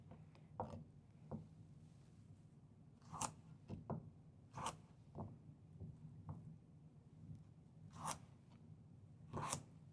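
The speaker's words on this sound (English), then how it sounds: "And then we're going to go back and cut our dice. And we want to rock the knife. It does not come off the board." A kitchen knife rocks through carrots on a cutting board, giving a scattered series of crisp taps and chops at an uneven pace over a low steady background hum.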